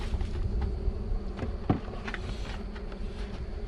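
Honeybees hum around an open hive, a low continuous buzz close by with a few brief louder passes of individual bees.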